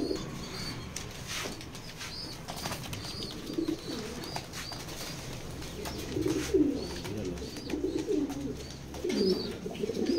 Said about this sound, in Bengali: এই যে ডাকতেছে যে নটটা